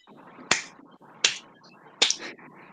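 A slow clap gives four sharp, evenly spaced hand claps about three quarters of a second apart, close and crisp over a faint murmur of background noise.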